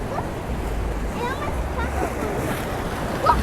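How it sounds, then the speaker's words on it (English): Pacific Ocean surf rolls steadily against rocks beside the Malecon boardwalk in Mazatlan, Mexico, a continuous broad wash of water with some wind noise, heard from nearby with faint voices in the background. "The waves hitting the rocks."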